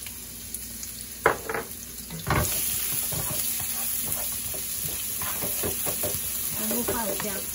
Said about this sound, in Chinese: 把那个姜片爆一下，然后放那个干葱头，